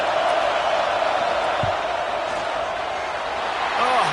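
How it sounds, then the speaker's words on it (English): Dense, steady roar of a football stadium crowd during a field goal attempt, loud and unbroken throughout. "This crowd trying to do its part to get inside the kicker's head."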